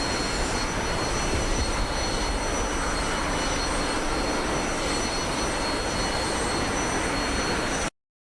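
Steady, broadband engine roar of a Spitfire fighter plane in the DCS flight simulator, a continuous loud drone with high whining tones, cutting off abruptly near the end.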